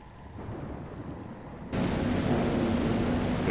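Storm ambience from Metroid Prime: a quieter rumble gives way abruptly to loud, steady hissing rain with low rumbling that carries on to the end.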